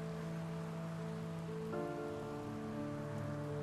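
Steady rain pours down in the video game Heavy Rain, a dense continuous hiss over low sustained musical tones that change partway through, with no voices.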